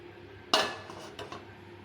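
A large cooking pot set down on a kitchen stove for drumstick leaf soup, one sharp metallic clank followed by a couple of lighter knocks as it settles, close and clear with no talking.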